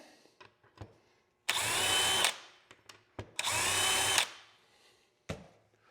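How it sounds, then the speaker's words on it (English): Two short bursts of a power drill whirring at high speed, each under a second, pre-drilling screw holes in a cabinet door for a hinge, with quiet clicks and handling noises before, between and after. "And I'm going to grab my pre-drill again."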